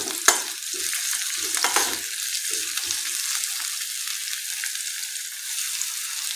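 Chopped garlic and onion sauté in oil in a pan, a bright, steady sizzle close by, with a few stirring scrapes and clinks near the start before it settles into continuous frying.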